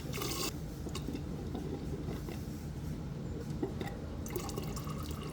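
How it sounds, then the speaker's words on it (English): Water runs from a GE side-by-side refrigerator's dispenser to purge air from a newly installed water filter, a continuous trickling and splashing stream with short bursts of sputtering and spitting as air bubbles escape. "Once the water's running smoothly and it's no longer popping full of air"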